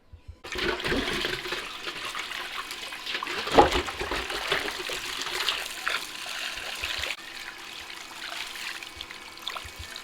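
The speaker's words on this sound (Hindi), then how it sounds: "मछली मैंने भिगो दी" Water gushes steadily over a 5 kg batch of whole fish in a village kitchen, a continuous splashing, trickling pour heard close and fairly loud for the full ten seconds, with a brief sharper splash partway through and no talking.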